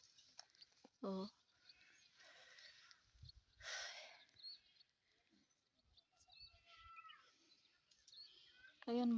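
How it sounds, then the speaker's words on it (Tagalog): A pet cat on a farm gives short meows, one early and one loud at the very end, amid soft rustling and quiet talk. "Ayan yung cute ng pusa namin."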